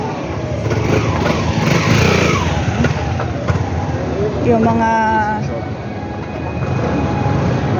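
Motorcycles and cars move through a parking area below a building, with a steady engine rumble that swells and fades as they pass near. A person talks over the traffic.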